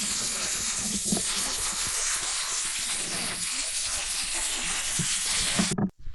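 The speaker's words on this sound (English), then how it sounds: "It's pissing down rain now." Heavy rain pours outdoors at a gold prospecting site in Northern NSW, making a steady, dense hiss that fills the clip evenly and stays loud until it cuts out abruptly near the end.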